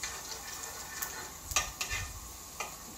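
Garlic sizzles in hot oil in a pan as it is browned, a steady crackling hiss with a few light metallic clinks from a stirring utensil.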